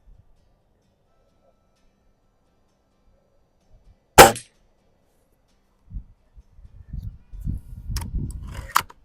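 A single sharp crack from a Norica Dreamhunter air rifle at a range stands out from near silence, followed by faint clatter and low handling noises.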